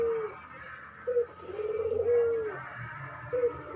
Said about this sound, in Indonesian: Nih didampingi oleh perkutut pikat.